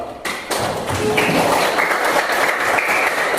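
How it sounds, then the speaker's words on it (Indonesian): Classroom applause for a student group, a sudden burst of many hands clapping that starts after a brief thump and then holds steady and fairly loud to the end. "kita kasih aplaus untuk kelompok 1"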